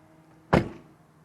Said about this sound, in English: And that is the door.